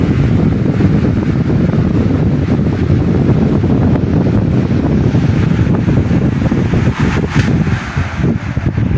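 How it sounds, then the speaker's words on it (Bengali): A Pak Punjab Super Industrial model stand fan runs close by, producing a loud, steady rush of blown air that holds unbroken for the whole stretch. "এই ফ্যানটার আমি একটু অন করে দেখাবো যে আসলে এটার বাতাসের কোয়ালিটিটা কীরকম"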